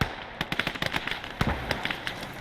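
An old armoured car in Call to Arms fires its machine gun in rapid, uneven bursts of sharp cracks. The bursts are loud and dense, layered over a noisy battlefield backdrop.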